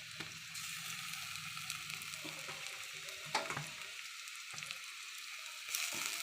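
Spice paste sizzling and frying with browned onions in a hot pan, a steady crackling hiss with occasional louder pops and stirring scrapes throughout.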